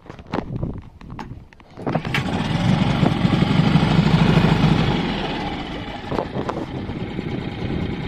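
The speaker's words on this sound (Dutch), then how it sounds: "ga de motor starten." Sailboat's inboard engine cranking with a few clicks and sputters, catching at around two seconds, then running as a loud, steady, chugging idle that eases slightly lower toward the end.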